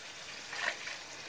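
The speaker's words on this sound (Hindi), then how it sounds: "अब इसमें थोड़ा पानी डाल रहे हैं." Water pours into a cooking pan of potatoes and peas in a brief, faint hissing splash that swells for a moment and then settles into a soft sizzle.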